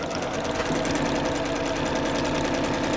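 A sewing machine runs steadily, stitching a reversible double-layer sling at a middle-long stitch length of about 3.5, a continuous close mechanical whir with a rapid needle rhythm and no voices.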